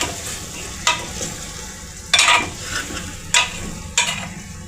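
Masala being stirred into stuffed brinjal curry in a pan makes a soft bubbling sizzle, punctuated by about four bursts of scraping as the spoon sweeps through the thick mixture, close and without voices.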